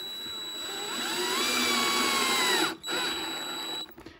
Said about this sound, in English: all you have to do is put your screws in and drill them